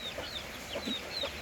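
Ducks raised as backyard livestock give soft, short clucking calls in a few brief bursts, with faint bird chirps above and a steady low background, no talk.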